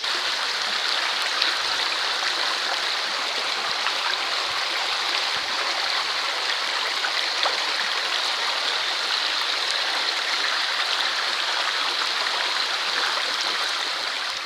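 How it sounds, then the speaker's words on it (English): A small waterfall and stream in Tanjay, Negros Oriental, Philippines, rushing in a steady, loud, close wash of water that runs unbroken throughout with no voices. "We actually found a little waterfall up this way"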